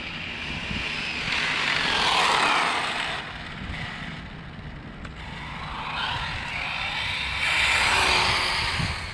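An ECX Circuit 4x4 RC car's electric motor at full throttle, a loud whining buzz that swells and fades as the car passes near and away, with a brief lull in the middle.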